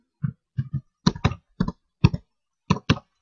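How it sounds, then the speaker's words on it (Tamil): Keys clack on a computer keyboard in short separate bursts, mostly single or paired strokes spaced across a few seconds, close and crisp against silence. "Dennis ரிச்சின்னு டைப் பண்ணிருக்கேன்"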